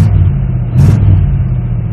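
A 1979 Pontiac Parisienne with dual cherry bomb glass packs idles smoothly, a loud, steady low rumble from close by with no talking.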